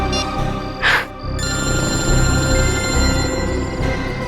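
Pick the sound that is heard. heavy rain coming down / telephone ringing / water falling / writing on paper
telephone ringing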